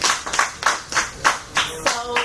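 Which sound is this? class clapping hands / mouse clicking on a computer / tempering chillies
class clapping hands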